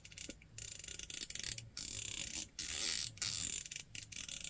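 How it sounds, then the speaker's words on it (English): Turrets on a Riton 5 Conquer 5-25x56 rifle scope are turned by hand, giving rapid runs of crisp, tactile detent clicks in quick bursts with brief pauses, close and fairly quiet. "let's just listen to these turrets"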